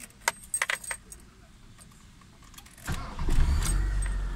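A Mitsubishi Lancer, a car that has suddenly stopped starting, with keys jangling in a few quick bursts, then a rising engine-start rumble near the end, close by.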